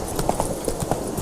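Horse hooves clip-clopping in The Witcher 3, a quick uneven series of about eight hoof strikes at close range with soft ambient game sound behind.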